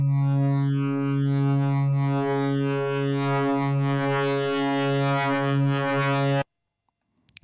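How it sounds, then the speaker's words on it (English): An Access Virus TI synthesizer plays a sustained frequency-modulated tone with a sine-wave modulator, a buzzy harmonic drone whose brightness grows before cutting off abruptly, followed by a few faint clicks. "So oscillator 2 is set to a sine wave right now. I'll increase the amount of FM."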